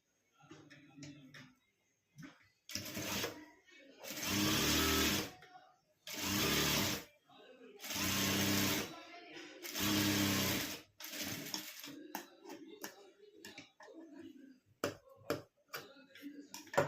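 Electric sewing machine stitching fabric for a puja altar cloth made from blouse-piece material, running in several loud bursts of a few seconds each, separated by pauses filled with handling clicks and rustles.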